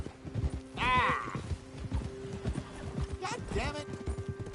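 Horse in a PS4 video game whinnies loudly once, then again more faintly, while steady clip-clop hoofbeats continue throughout under a low background tone and some talk.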